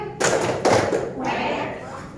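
Children play the tepuk bebek duck clapping game, two sharp bursts of hand claps close by with a few softer taps between, under steady talking and chanting voices.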